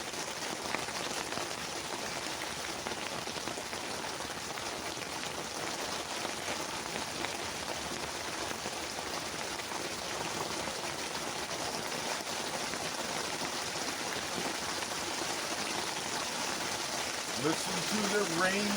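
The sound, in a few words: rain falling on the roof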